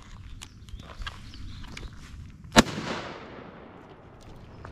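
A single sharp, loud blast from a Mossberg 590 Shockwave shotgun cracks out amid quiet shuffling and handling noises, its echo rolling away for a second or two.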